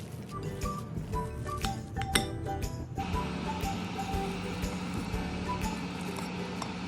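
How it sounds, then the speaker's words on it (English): A spoon or utensil clinks and scrapes against a bowl while mashed potatoes, tuna and kebab ingredients are mixed together, a steady run of close knocks and scraping over background noise. "Mix till all the ingredients and potatoes mashed and combined together."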